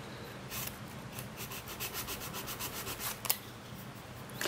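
A nail capsule edge is filed by hand, giving quiet, rhythmic rasping strokes, steady back-and-forth scrapes with one brief sharper click near the end, and no talking.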